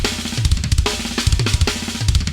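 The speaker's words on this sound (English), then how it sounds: "uses simple sticking patterns, but applies them in a bunch of different ways to get fills that sound like this" A drum fill built from a six-stroke roll sticking with kick, right and left hands, moved around the kit in quick repeating bursts of toms, snare and bass drum, close and loud with no talking.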